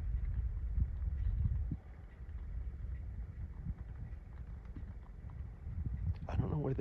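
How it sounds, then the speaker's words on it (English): Horse hooves clomp on dirt at a distance, a faint uneven patter under a steady rumble of a running vehicle and light wind. "I can hear the hooves clomping on the dirt."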